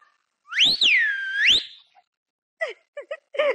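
A person gives a loud, clear wolf-whistle, a rising-and-falling pitched sweep lasting about a second, followed by a few short, quieter whistled or voiced chirps after a brief pause, heard in a Marathi stage comedy scene.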